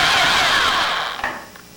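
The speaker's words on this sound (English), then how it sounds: "I'm going to drill at the front" A long drill bit bores through the MG30 foam and the floor, a loud whining power drill that runs steadily, then winds down toward the end.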